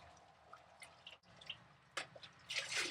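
Hot water and wort slosh and drip in a plastic home-brew beer bucket, with scattered faint drips building into a louder swish toward the end, close and without talk.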